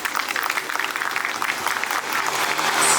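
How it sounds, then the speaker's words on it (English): Audience applause at an International Women's Day and Holi celebration after guests light a ceremonial lamp on stage: dense, steady clapping from a crowd that swells louder toward the end, with no talking. "Once again, let's clap for them."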